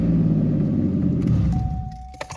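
A Pontiac 3.4 engine with a suspected plugged catalytic converter revs hard against its rev limiter, a loud, steady, close droning roar that holds, then eases off as the throttle drops, ending in a few small clicks.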